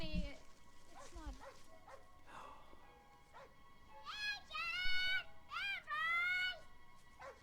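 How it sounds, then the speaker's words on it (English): A dog barks and yelps several times at a distance, excited high-pitched calls, with faint voices in between. "I know that bark."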